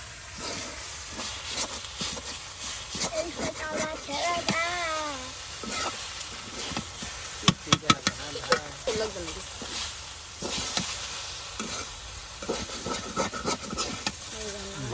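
Egg and potato fry in a pan in a home kitchen on a stormy, rainy day, giving a steady soft sizzle with scraping stirs and clinks from utensils, while someone talks over it.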